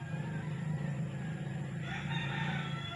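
A rooster crows in the rural countryside, heard at a distance over a steady background hum with no one speaking.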